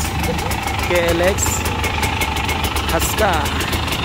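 A dirt bike engine idles with a steady, loud mid-range drone on a trail ride, while people chat over it.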